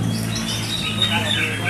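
White-rumped shama (murai batu) singing at a songbird contest, rapid high chirps and whistled phrases over a crowded background with an announcer's voice on a loudspeaker.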